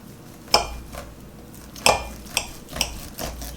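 A knife slices into a rare steak cooked in an air fryer, giving a few sharp scraping clinks of blade on plate spaced over a few seconds, close and moderately loud with no talk.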